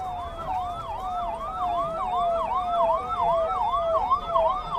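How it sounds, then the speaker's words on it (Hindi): An ambulance siren wails in a steady, rapid rising-and-falling cycle at the crowded Mahakumbh gathering, held at a moderate distance over a low background rumble. "यहाँ पर लाइन से एम्बुलेंस जा रहा है"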